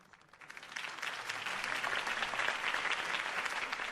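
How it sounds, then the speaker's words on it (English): Crowd applause rises after a political campaign speech at an event in the Batman Telltale video game, broad, steady clapping from many hands that swells within the first second and holds at full strength. "If only Mr. Wayne, my campaign's largest backer, could have heard that applause"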